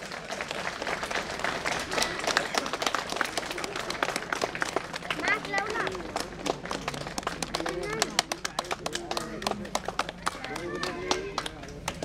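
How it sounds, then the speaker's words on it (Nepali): Audience clapping for the chief guest at a farmers' cooperative anniversary ceremony in Chitwan, a steady patter of many hands that continues for the whole stretch, with voices talking and calling out underneath. "ल प्रमुख अतिथिज्यूलाई र सबैले ताली बजाइदिनु होला।"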